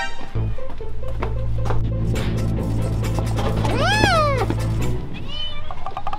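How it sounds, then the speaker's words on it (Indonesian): A pet cat meows indoors, one clear, loud, rising and falling meow near the middle and another shorter one at the end, over a steady low hum and some soft knocking. "Itu kucingnya, Rik."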